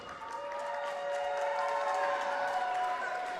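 Wrestling event crowd in Williamsport roaring and cheering, a sustained dense wash of voices with steady loudness throughout, no single voice standing out.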